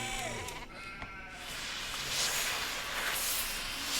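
Sheep bleat in the Nancy Drew game The Haunting of Castle Malloy: a few short, wavering bleats that sound fairly close, over a soft airy hiss.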